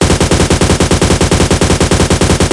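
Rapid, steady machine gun fire in PUBG Mobile Lite, a loud, continuous burst of evenly spaced shots lasting the whole moment with no talk over it.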